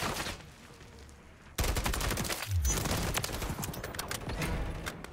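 Gunfire in the shooter Call of Duty: Modern Warfare III, a quiet stretch giving way to a loud sustained volley of rapid shots with an SVA 545 loadout in play.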